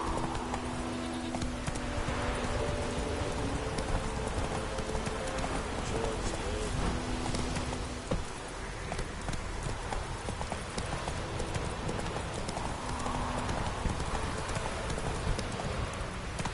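A horse's hooves clip-clop at a running pace in a video game, a steady rhythmic patter held under a constant bed of game sound and music.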